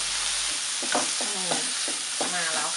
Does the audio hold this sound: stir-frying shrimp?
yes